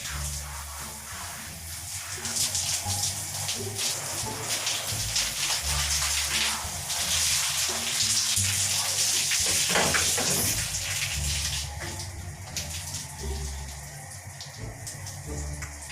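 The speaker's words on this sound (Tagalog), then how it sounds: "Gawin tayo ng shower." Shower water running steadily in a bathroom, a continuous broadband hiss of spray falling on a surface, close and fairly loud throughout with small shifts in texture.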